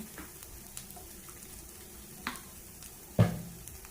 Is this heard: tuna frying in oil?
yes